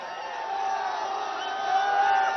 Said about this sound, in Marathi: एकच जल्लोष या तरुणाईमध्ये यावेळेला पाहायला मिळालेला होता